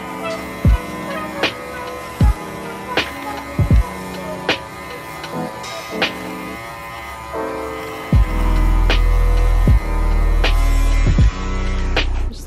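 An electric sweater shaver glides lightly over pilled fabric, giving a steady motor hum that drops and swells, broken by sharp clicks and knocks as it is moved. Toward the end a louder, fuller buzz takes over.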